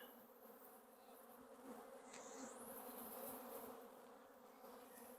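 A honeybee colony buzzes as the hive is opened and the brood nest is exposed: a dense, continuous hum of many bees, with single bees droning past close by and no speech.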